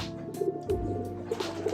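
Pigeons coo in a racing pigeon loft in Tangerang, with soft, low, rolling coos repeating close by in short overlapping bursts.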